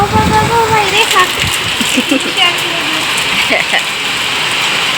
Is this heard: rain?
yes